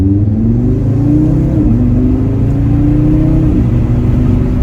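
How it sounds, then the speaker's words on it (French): A stage 1 tuned Audi RS3 accelerates gently in second gear in comfort mode, its engine note rising steadily in pitch with a brief dip at each step, loud and close with no talk. "On va accélérer doucement pour que vous puissiez entendre."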